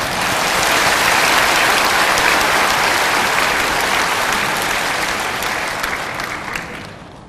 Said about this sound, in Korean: 우리 한번 박수.